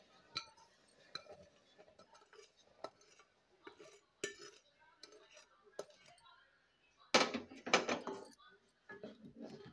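Wheat semolina is stirred into cow's milk in a pot on the stove, giving scattered spoon clinks and scrapes against the metal, with a louder burst of rustling and pouring near the end.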